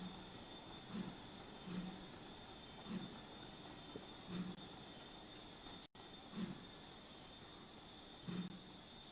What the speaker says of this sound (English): we've got one of our first trains arriving into Reading